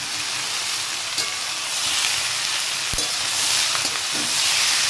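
Capsicum, beans, peas and tomato fry in a hot pan and get stirred, giving a loud, constant sizzle broken by occasional scraping clicks of the spatula.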